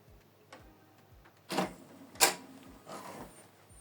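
An HP Deskjet 2700 series printer runs a page, with steady soft ticking of the carriage, then two louder mechanical bursts and a feed whir near the end.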